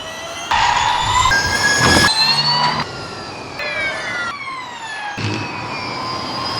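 A Formula E electric race car's high-pitched electric whines sweep past in several loud waves, with shifting tonal pitches over a constant rushing roar.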